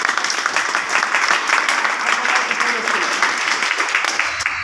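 An audience at a training session claps steadily, dense applause filling the room at moderate volume before tapering off at the end.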